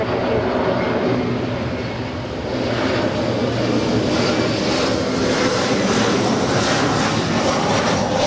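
A fixed-wing airliner lands on runway 24 right at Los Angeles LAX airport, its engines a loud, steady broadband roar that holds for the whole stretch with only a slight dip early on.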